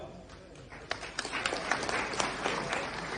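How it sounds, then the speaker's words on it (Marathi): A crowd at a political rally breaks into applause, the clapping building from faint to a dense, steady roar of many hands that carries on to the end, heard from a moderate distance. "तुमच्या स्वाभिमानाकरता तुम्ही स्वतः तुमच्यासाठी टाळ्या वाजवा"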